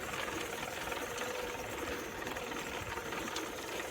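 A folding A-Bicycle e-bike motor runs flat out, giving a steady, unbroken buzzing drone with a rattly mechanical texture that holds at constant level throughout, close and fairly loud.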